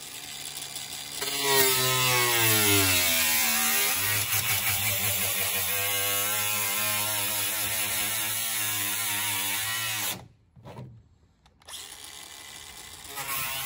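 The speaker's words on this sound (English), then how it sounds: "So we got the grinder, we got our power shears. Let's make some cuts." A corded angle grinder and power shears cut into a heat pump during an HVAC upgrade, giving a loud, steady mechanical whine with shifting pitch for about ten seconds before stopping briefly and starting up again.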